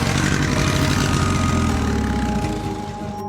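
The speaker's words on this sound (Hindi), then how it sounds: "मोटरसाइकिल की आवाज आई।" A motorcycle engine rumbles loudly and steadily close by in a village street scene from a Hindi cartoon, idling with a constant throaty drone that eases off slightly near the end.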